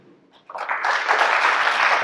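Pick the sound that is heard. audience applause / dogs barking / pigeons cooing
audience applause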